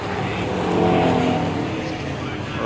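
A Ford Mustang 2+2 engine runs steadily and fairly loud at an outdoor car show, a continuous rumble that swells slightly near the middle before settling.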